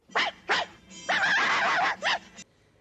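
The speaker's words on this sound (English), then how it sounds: "the Yorkshire Terrier gives out the call" Yorkshire Terrier from the animated film 101 Dalmatians barking: a few sharp, high yips followed by a longer drawn-out howling bark and a final yap, loud and close, ending in near silence.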